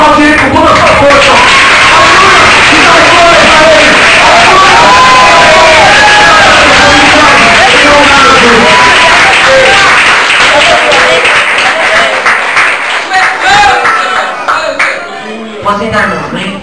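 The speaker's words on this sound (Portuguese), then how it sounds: "se você ama Jesus, aplaude Ele com toda a sua força" A church congregation applauds and cheers loudly for Jesus at the close of a sermon, sustained clapping and shouting filling the room before tapering off near the end.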